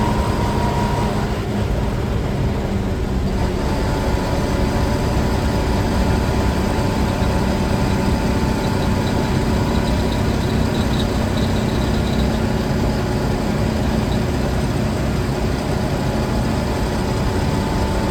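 Engine of a 1942 Chevy G506 truck heard from inside the enclosed cab while driving at about 35 mph, a loud, constant low drone with steady mechanical hum and no letup.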